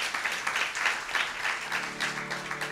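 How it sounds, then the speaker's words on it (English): Audience applause at a bhajan album launch event at the Nehru Centre, a steady wash of many hands clapping at moderate level throughout, without talk. "let's have a round of applause for Chandni for hosting so wonderfully."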